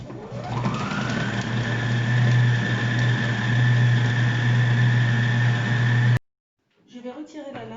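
A CookEasy+ food processor spins up at speed 10 with a rising whine into a loud, steady motor drone chopping tomato for couscous, then cuts off abruptly, followed by a brief voice.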